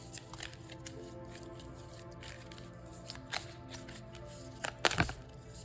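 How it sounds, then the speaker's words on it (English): Tarot cards are shuffled by hand in a quiet room, soft riffling and sliding taps with a few sharper snaps and a brief louder flurry near the end, no talking. "So I'm just going to shuffle."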